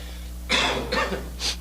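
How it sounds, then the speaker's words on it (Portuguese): Three short, harsh coughs spaced about half a second apart, close to the microphone, with a low steady hum underneath. "torcendo para a tosse deixar eu falar hoje"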